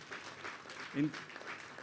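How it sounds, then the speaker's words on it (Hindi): An audience at the Prem Utsav 2024 award ceremony claps in a brief burst, with a voice speaking over the applause. "सभी लोग एक बार फिर से जम के तालियां बजाइए इनके लिए"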